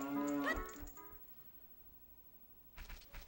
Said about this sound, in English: There's another cow.